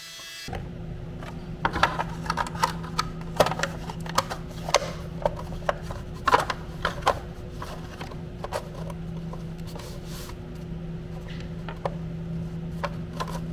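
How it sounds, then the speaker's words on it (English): A vacuum cleaner runs steadily in a workshop where fiberglass boat parts are being made. It keeps up a constant motor hum throughout, with frequent sharp clicks and knocks over it. "I've got the vacuum cleaner running"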